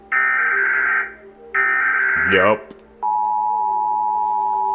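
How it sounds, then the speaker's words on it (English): Harsh two-tone alert blasts sound twice, followed by a sweeping warble and then a steady high tone; a voice briefly speaks. "The one I'm used to is America's that sounds like this."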